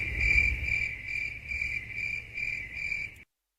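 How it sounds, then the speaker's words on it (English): Crickets chirp in a steady, continuous pulsing trill, fairly close and loud, with a low background hum beneath and no voices, cutting off abruptly near the end. "Oh, okay, crickets again."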